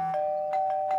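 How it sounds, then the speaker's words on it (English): A doorbell chimes with a steady electronic tone, a few soft strikes layered over a sustained ring, close and clear, in a Garfield cartoon. "Wonder how it rang the doorbell."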